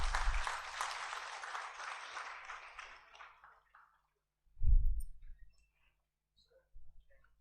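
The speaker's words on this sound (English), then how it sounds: "please give a big round of applause" Audience applause at a certificate ceremony during a national convention of insolvency professionals, a burst of clapping that fades out over a few seconds, followed by quiet with faint thumps.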